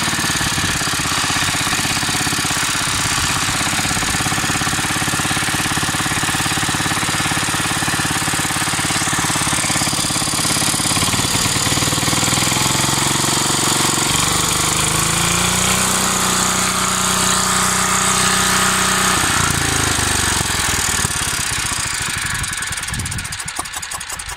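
An Oleo Mac Sparta 440T brush cutter engine runs loudly and continuously up close, its rattling two-stroke drone rising and falling in pitch as the throttle is worked, without ever settling into a clean high rev.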